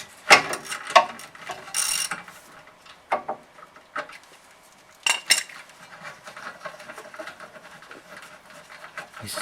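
Metallic clanks, rattles and ratcheting from a 17 mm wrench working the tight rear brake bolts on a Toyota Mark II JZX110, in irregular bursts of tool-on-metal clinks with quieter gaps between them; no talking.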